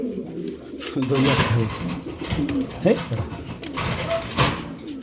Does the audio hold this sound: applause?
no